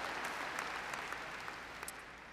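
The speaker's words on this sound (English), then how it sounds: "Louder, a round of applause." A faint, steady wash of audience applause fills a university convocation hall, distant and even throughout with a few scattered cheers rising above the clapping.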